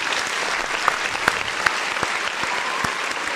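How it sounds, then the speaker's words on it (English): A scattered round of clapping fills a sports talk show studio, with sharp individual claps standing out over a steady patter and no one speaking. "He get the claps."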